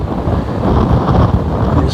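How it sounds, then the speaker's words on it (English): Wind gusts across a carp fishing lake in mid-March, buffeting the microphone with loud, rumbling low noise that swells and eases without any other clear sound. "it's a bit windy, as you can probably hear."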